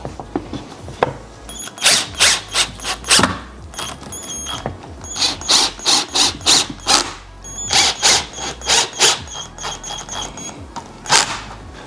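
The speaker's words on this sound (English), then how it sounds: "let's see how much faster the process is when you guys use a power drill." Short bursts of a whirring power drill driving screws while assembling a Furinno Andrey end table, starting and stopping repeatedly with mechanical clicks and rattles between runs, close by.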